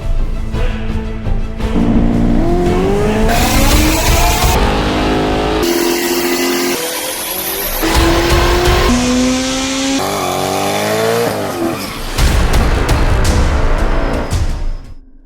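A 1948 Ford F1 with a turbocharged 5.3 LS V8 on a stock bottom end runs on a dyno. It is loud and close, with several rising full-throttle pulls that climb in pitch, drop back, then pull again, and no talking.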